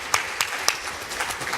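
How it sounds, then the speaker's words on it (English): A small audience at a tech summit lecture claps briefly, a few sharp separate claps standing out over a thin, scattered patter that fades quickly. "Yeah, you can clap for me."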